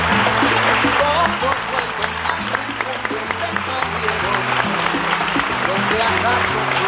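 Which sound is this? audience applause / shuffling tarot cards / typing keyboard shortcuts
audience applause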